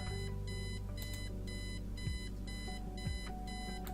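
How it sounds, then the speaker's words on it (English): A shrill electronic alarm clock rings in repeated bursts of beeping in the adventure game Kathy Rain, set in 1995, loud and steady with no talking over it. "Eileen's obnoxious alarm clock. The noise makes me want to stab myself with something dull."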